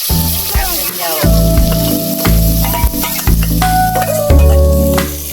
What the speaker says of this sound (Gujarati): બરોબર વઘાર કર નાખો.